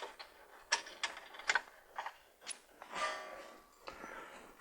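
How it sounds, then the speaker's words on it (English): Ratchet clicking while loosening the crank pulley bolt on a Honda V6 engine, a series of sharp metallic ticks and short ratcheting bursts close by, fairly quiet in a workshop. "now I'm going to remove the crank pulley bolt"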